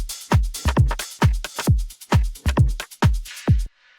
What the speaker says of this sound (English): I have a hi-hat go in the last bar of a loop and then reverse it on the very last hit.